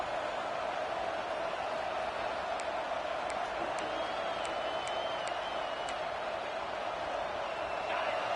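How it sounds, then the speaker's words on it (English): A stadium crowd at the Ohio State vs LSU college football game roars steadily and loudly without a break, with a few faint whistles and sharp peaks above the sustained wash of noise. "The roar of the crowd trying to fuel this defense to keep them pinned in their own end."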